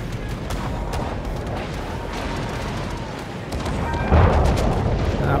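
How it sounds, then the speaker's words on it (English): Secondary guns on a warship in World of Warships keep up a dense, continuous rumbling barrage of booms, loud and sustained, growing heavier toward the end. "The secondaries open up. I just love the sound of these secondaries."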